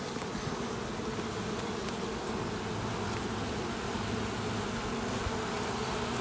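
Honeybees in an opened hive during an inspection, a dense steady buzzing hum that holds evenly throughout, close and continuous.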